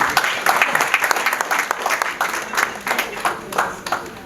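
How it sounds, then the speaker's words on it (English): A conference audience applauds a diplomats' panel discussion with fairly close, steady clapping from a modest crowd, pulsing slightly in loudness throughout. "A round of applause for everybody"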